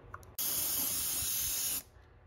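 A steady, loud hiss of a siphon-feed airbrush spraying clear coat runs for about a second and a half, starting and stopping abruptly, close by.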